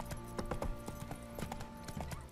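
Horse hooves clip-clop in a quick, steady rhythm in the video game Witcher III: Wild Hunt on Xbox One, close and fairly prominent throughout.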